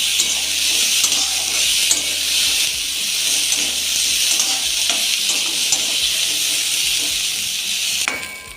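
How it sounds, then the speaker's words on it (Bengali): Potato, tomato and onion sauté in a little oil for a tangra fish curry, giving a steady, close frying sizzle and hiss with soft stirring scrapes throughout, fading slightly at the end. "এটাকে আবারও আমি কষিয়ে নেব।"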